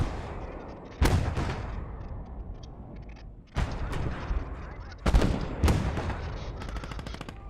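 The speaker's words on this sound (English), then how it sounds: "The mortar and the tanks are doing a good job" Heavy gunfire and booming blasts from mortars and tanks, among them a T-34 and a Panzer II with a 20mm autocannon, on an Eastern Front battlefield in Gates of Hell: Ostfront; three sharp loud impacts land over a steady rumble of distant shooting.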